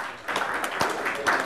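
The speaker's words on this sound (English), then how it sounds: "let's give him a big, big round of applause" Audience at the International Galvanizing Conference applauding a memento presentation, a brief burst of clapping from a modest crowd, fairly close with a few sharper claps standing out.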